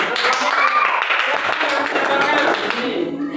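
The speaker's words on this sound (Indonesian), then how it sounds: "tepuk tangan." Applause and clapping from a classroom group during a school lesson: a dense, steady burst of many hands clapping together, fairly loud and close, with voices mixed in.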